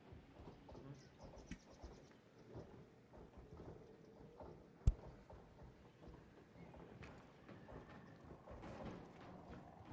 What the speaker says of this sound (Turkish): Ayak sesi var yani.